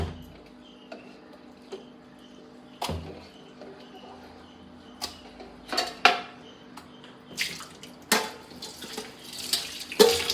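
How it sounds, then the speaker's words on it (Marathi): Water runs from a tap into a sink while clams rubbed with turmeric and salt are rubbed and rinsed, with occasional clinks and knocks of shells and dishes. "चोळून ठेवली होती वजरी हळद मीठ लावून ती आता धुवून घेते"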